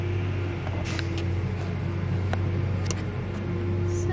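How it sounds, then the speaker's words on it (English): A garbage truck idles or works outside a home, heard from indoors as a steady low engine rumble and hum with a few faint clanks and knocks on top, with no one speaking. "And there's a garbage truck outside,"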